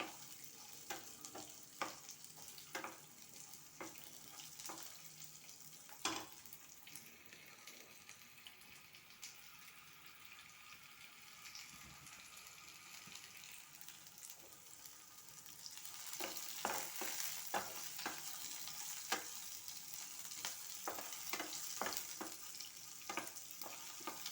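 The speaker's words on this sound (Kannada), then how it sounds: "ಶುಂಠಿ ಈರುಳ್ಳಿಯನ್ನು ಹಾಕ್ಕೊಳ್ಳೋಣ ಇದು ಸ್ವಲ್ಪ ಹುರಿದಾದ್ಮೇಲೆ" Ginger and onion frying in a pan with garlic, a faint steady sizzle with intermittent stirring clicks, growing a little louder and busier toward the end.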